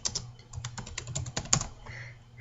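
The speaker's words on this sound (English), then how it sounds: "if you hear me typing, I'm on Skype at the moment" Fast, uneven clicking of keys on a computer keyboard, close and fairly quiet, in irregular bursts.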